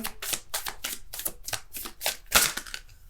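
Tarot cards riffled and shuffled by hand in quick repeated bursts, about ten crisp papery flurries in under three seconds, close and moderately loud, with no talking.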